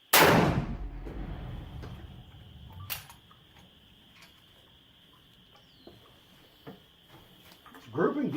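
A single sharp, loud gunshot from a Martini-Henry Mark 4 rifle with black powder, with a deep booming tail, followed by quiet outdoor ambience with faint clicks and a brief noise near the end.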